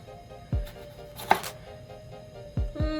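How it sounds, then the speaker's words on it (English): A knife cuts the stem off a serrano pepper on a cutting board, giving a few sharp, close chopping knocks with a small crisp snap in the middle, set against quiet kitchen background. "Take my serrano, cut the stem off"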